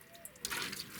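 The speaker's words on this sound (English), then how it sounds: "I tip it. The air rushes out and it sucks up, you know, anything down there." Air rushes out of an upturned container held underwater in a water tank, a short gurgling, bubbling burst that rises and then settles, faint and close.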